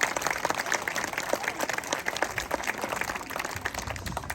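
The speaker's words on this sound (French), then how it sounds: "Je pense qu'on peut les applaudir d'ailleurs." Applause for schoolchildren at a school inauguration ceremony, a continuous moderate round of clapping from a gathered crowd, steady and even throughout.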